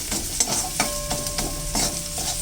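Garlic and green chilli sizzle in hot oil in a pan, a soft steady frying crackle punctuated by several rhythmic scraping stirs of a spatula.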